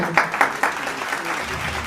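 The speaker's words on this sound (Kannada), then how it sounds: "ಜೋರಾದ ಒಂದು ಚಪ್ಪಾಳೆ, ಅಭಿಮಾನದ ಚಪ್ಪಾಳೆಯನ್ನು" Audience applause at a stage programme, a short burst of clapping with a few sharper claps early on, then steady dense clapping that holds at an even level to the end.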